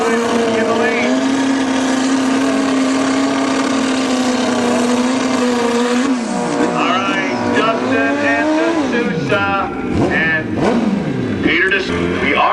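Motorcycles drag racing on a quarter-mile strip at Luskville Dragway, a loud sustained engine whine holding pitch, then several bikes revving and shifting in rapid sweeps, with an announcer talking over the roar.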